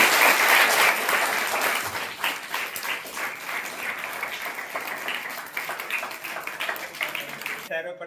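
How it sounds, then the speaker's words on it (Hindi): Audience applause greets guests at a school prize-giving ceremony, loud dense clapping at the start settling into steady applause with voices over it, then cutting off at the end. "पधारे हुए मेहमानों का जोरदार तालियों से स्वागत है।"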